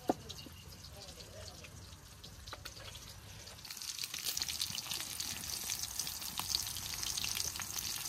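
Jatka, young hilsa fish, fry in oil over a village stove, a faint, quiet sizzle that grows louder and denser partway through, with scattered drips and pops.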